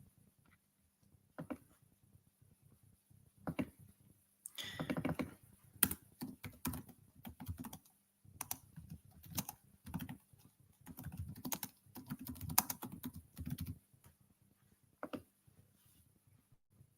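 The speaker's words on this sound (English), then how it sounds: "Hold on, let me just type that in." Close, quiet clatter of keys on a computer keyboard, coming in irregular bursts of rapid tapping separated by short pauses, with no voices.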